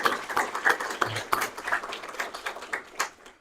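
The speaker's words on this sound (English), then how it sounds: "I just want to give a huge applause to Paul" Light, scattered clapping from a ceremony audience, with quick uneven claps that hold steady for a few seconds without voices.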